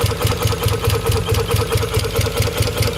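A 1992 Plymouth Laser's freshly rebuilt engine, on its first start, runs with a steady, slightly lumpy pulsing rhythm, loud and close, with no other sounds.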